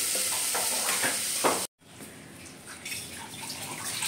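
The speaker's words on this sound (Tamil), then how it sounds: "எண்ணெயில் ஒரு 5 நிமிஷம் வதங்கட்டும்." Onion, tomato, green chili and curry leaves sautéing in hot oil for a crab curry, giving a steady close sizzle with stirring scrapes, a brief dropout midway, then continuous frying hiss with no talk.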